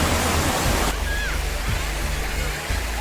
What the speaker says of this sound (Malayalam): അപ്പം വെള്ളച്ചാട്ടം